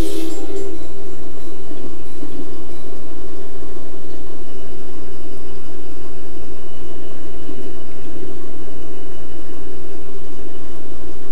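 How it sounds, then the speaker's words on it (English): A locomotive in Train Simulator 18 on Marias Pass gives a loud, steady, continuous rumble and drone with a sustained low hum that stays constant throughout. "We're in locomotive number 9299."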